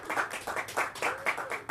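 A comedy-show audience claps and cheers in bursts of applause, close and lively, with rhythmic hand claps and whoops rising and falling.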